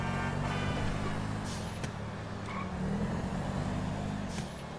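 A car drives along in Grand Theft Auto V, its engine a steady low drone with road rumble, continuous and fairly loud throughout.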